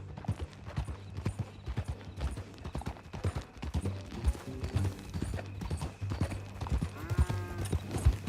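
In Red Dead Redemption 2, steady clip-clop of horse hooves in a rhythmic trot, close and distinct, over a low droning background with occasional mechanical clicks.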